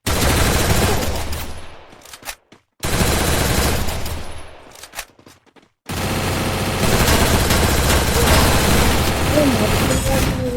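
Rapid bursts of automatic gunfire in a video game battle, loud and close, cutting off twice into short silences before a denser stretch of continuous shooting.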